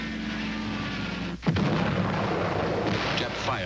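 Gunfire and heavy explosive blasts on a beach landing in the Pacific war of 1944–45, Japanese fire pinning troops down: a dense, loud battle roar with one sharp close burst partway through, then continued rumbling fire.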